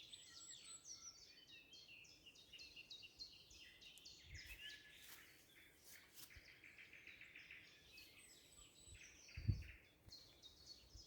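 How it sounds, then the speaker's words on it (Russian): Birds sing in a spring forest where lilies of the valley grow. High chirps and trills repeat faintly over a quiet outdoor background, with no speech. "Понаслаждайтесь еще немножко пением птиц, зеленой травкой."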